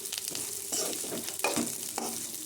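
Moong dal fries in oil in a pan, a close crackling sizzle with several stirring scrapes in quick succession, fairly soft and continuous without any voice.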